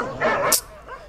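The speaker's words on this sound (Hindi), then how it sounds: "ये कुत्ता इतना क्यों भौंक रहा है यार?" A dog gives a single short, high yelp close by, with a brief sharp squeak near the end and a low voice faintly underneath.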